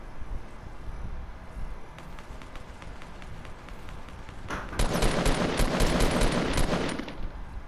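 Gunfire in Fortnite starts as sparse taps, then becomes a fast burst of rapid shots from mid-distance over footsteps and wind, fading near the end.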